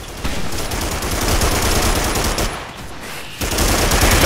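Rapid, loud bursts of automatic gunfire in the video game Primal Carnage, nearly continuous with a brief gap, dense and close, with no talking.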